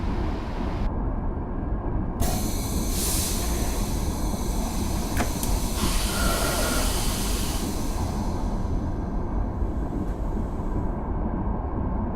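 A train in Train Simulator 2015 rolls steadily at speed, making a continuous loud rumble and hiss with faint high-pitched squeals from braking, and no voices.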